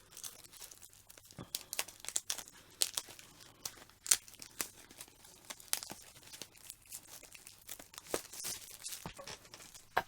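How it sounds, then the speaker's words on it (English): Shrink-wrap is peeled and torn off an album package, with close, irregular crinkling, crackling and tearing bursts that go on throughout. "How am I going to do this? Am I going to completely unseal it?"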